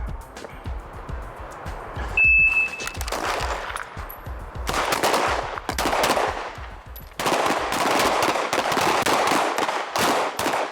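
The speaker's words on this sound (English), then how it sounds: "you'll take cover, draw and fire 3 rounds, 1 target, 3 rounds, other target." Repeated gunfire on a police firearms qualification range, loud bursts of shots fired in quick clusters with short pauses between volleys, close by and dominating the scene without talk.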